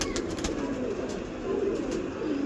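Pigeons coo softly and repeatedly at close range in a breeder's loft, low rolling calls over a steady background hum with a few faint chirps.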